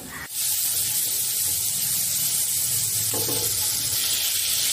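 Butter and a tablespoon of oil sizzle and spit in a hot pan for Indian-style masala pasta, a sudden loud hiss that starts abruptly and keeps crackling steadily, close up.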